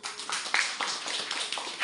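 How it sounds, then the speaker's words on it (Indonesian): An audience at a religious lecture claps in a quick burst of dense, overlapping hand claps, moderately close and fairly loud, no speech over it. "Beri tepuk tangan untuk saya."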